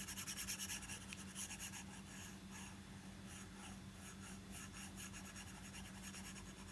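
An eraser rubs writing off a classroom board in steady back-and-forth scrubbing strokes, close and continuous, with no talking.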